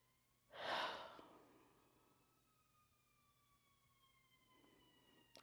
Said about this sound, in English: I forgot how many sirens I hear when I'm in Chicago.